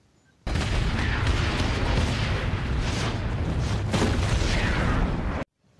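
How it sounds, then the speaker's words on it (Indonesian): A loud, continuous rumbling roar of hand grenade explosions in a film fills several seconds, then cuts off abruptly. "membalikan badannya si Edwin, terlihat beberapa granat tangan yang akhirnya meledak dan melemparkan tubuh si predator."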